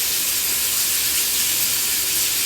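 Chicken pieces for butter chicken masala fry in a pan until browned, giving a steady, loud hiss of sizzling oil that runs unbroken and alone throughout.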